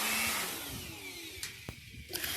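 A loud whooshing air blower roars at first while drying a cleaned window-type air conditioner, then drops and sputters, with brief bursts of hissing air and a few knocks toward the end.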